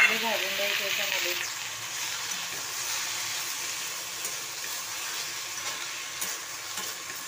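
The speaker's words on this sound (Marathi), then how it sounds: "हे टोमॅटो चांगले भाजून द्यायचे याच्यामध्ये" Tomatoes sizzle steadily in a hot pan while being roasted for dhaba-style paneer bhaji, a close, even frying hiss with occasional stirring, and a voice heard at the start.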